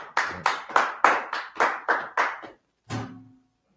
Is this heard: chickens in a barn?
no